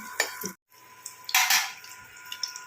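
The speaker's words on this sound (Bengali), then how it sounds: "এই দেখো ভাজা হচ্ছে আলুর বড়া, মচমচে" Potato fritters frying in a pan of oil, with a soft crackle and bursts of sizzle punctuated by a brief gap and several spatula or utensil clinks, close by, with no speech.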